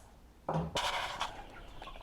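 Chickens in a coop give a few close clucking and squawking calls, fairly loud, over a quiet background with no talking.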